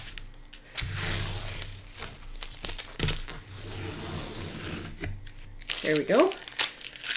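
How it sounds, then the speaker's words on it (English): Tape is peeled away from the edges of a watercolor painting of weathered wood and rust, producing close crinkling and tearing bursts between pauses, with a person speaking briefly. "I'm going to take off my tape"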